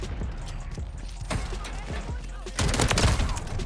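Riveter shotgun fire in the Modern Warfare 3 video game, a few sharp blasts amid a loud clattering burst of battle noise, with a voice talking in between.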